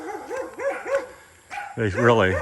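A dog barks several times in quick succession nearby near a pond in the Philippines, followed by a louder, longer howling bark.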